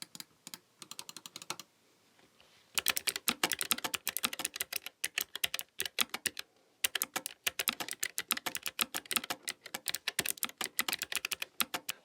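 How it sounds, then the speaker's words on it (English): Rapid clacking on a Keychron K3 Pro keyboard with Gateron low-profile mechanical switches comes in fast, even bursts of keystrokes separated by short pauses, close and clear with no talk. "The Keychron uses Gateron low-profile mechanical switches."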